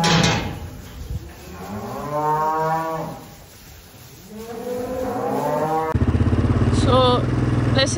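Spring cows with calves out on a hillside pasture let out several long, drawn-out moos, loud and fairly near, overlapping one another; a vehicle engine rumbles in near the end.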